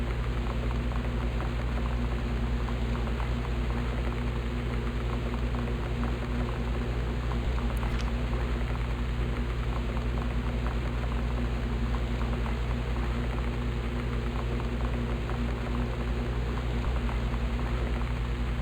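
Water runs steadily from faucets inside the house in Gone Home, a constant hissing splash that holds at an even level for nearly twenty seconds with no voices.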